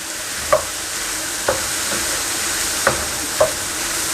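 Chicken, mixed vegetables and coloured capsicum fry in a pan with a steady close sizzle. Four sharp spatula scrapes or clicks cut through it at irregular intervals, and no one speaks.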